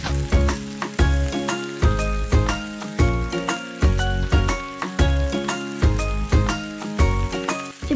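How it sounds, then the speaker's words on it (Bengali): Chillies, capsicum and onion with a pinch of salt sizzle and fry in a pan, with loud, crackling bursts and rhythmic stirring strokes close up. "এবার এগুলোকে হালকা করে ভেজে নেব।"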